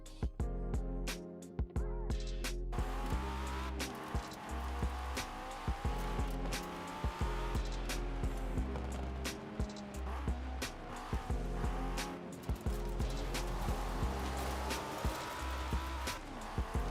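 An Audi Quattro rally car in Forza Horizon 4 drives hard, its engine roaring and revving through gear changes with repeated tire squeals and skids through corners, loud and continuous with no talk.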